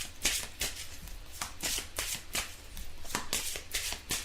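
Tarot-style cards riffled and shuffled by hand for a card reading, a run of quick crisp flutters in an irregular rhythm, close and fairly quiet, with no talking.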